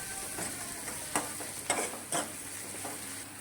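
Capsicum and onion fry in a pan under a constant sizzle, while a spatula stirs them in several distinct scraping strokes, with no talking.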